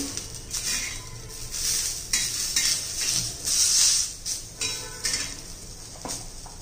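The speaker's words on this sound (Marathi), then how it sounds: "हे पहा मिरची पण आपण आता तेलामध्ये फ्राय करून घेते" Green chilies frying in hot oil sizzle in swelling hisses, with a utensil clinking and scraping against the pan now and then, close and with no talking.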